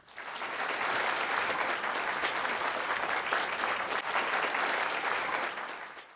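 An audience at a science talk welcoming a speaker to the stage with sustained applause, a dense even roar of many hands clapping that swells in, holds steady and tapers off at the end.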